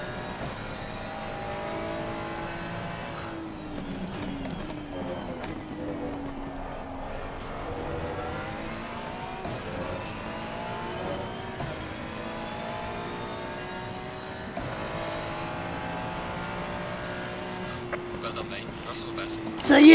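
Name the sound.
race car driving in Assetto Corsa Competizione video game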